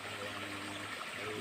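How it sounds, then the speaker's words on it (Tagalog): A flowing stream in Quezon gives a soft, steady rush and trickle of water, faint and continuous, with no voices over it. "Napakaganda mga idol ng batis po dito."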